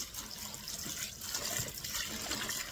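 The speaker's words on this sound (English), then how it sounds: "Then I'm going to fill my whole sink up and I'm going to start to wash the lettuce." Water pours from a tap into a kitchen sink that is being filled for washing lettuce, making a steady, moderately loud rush and burble that rises and falls slightly, with no speech.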